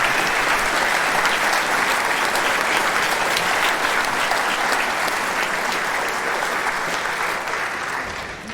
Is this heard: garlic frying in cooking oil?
no